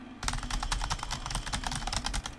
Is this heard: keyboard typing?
yes